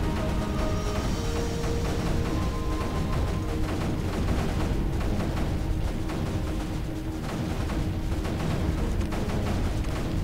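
Mortars and cannons firing in the strategy game Creeper World 3, a dense, continuous barrage of overlapping booms and crackles sustained loudly throughout with no pauses.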